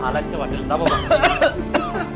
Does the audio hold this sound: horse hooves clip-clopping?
no